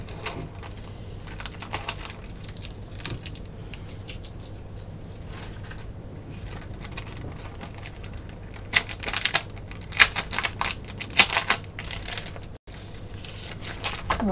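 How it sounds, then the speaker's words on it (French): A small pouch of paper planner supplies is being opened and rummaged through, giving close, dry rustling and clicking patter. Sharper crinkles cluster in the second half. "je vais ouvrir donc ma petite poche, ma petite pochette"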